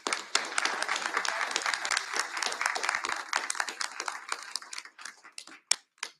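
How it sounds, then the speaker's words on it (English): Applause from an audience at a public school board of education meeting, a sustained burst of dense clapping that thins into scattered claps before fading out. "if I could have another round of applause to acknowledge all of them"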